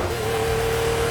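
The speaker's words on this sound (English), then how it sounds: "when you unleashed its 5-litre V12, it would do" A Ferrari Testarossa's 5-litre V12 engine revving hard, a loud, sustained, steady roar with a strong low rumble that holds throughout without a break.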